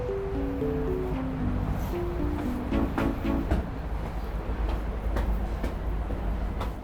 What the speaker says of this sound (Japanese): 大阪のニュートラムという列車に乗って